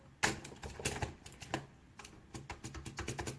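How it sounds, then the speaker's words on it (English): Clicky keys on a Rosewill K51 RGB keyboard being pressed one after another in an uneven rhythm, each press a sharp close tap, with a few keys sounding slightly different from the rest. "some keys have different clicks"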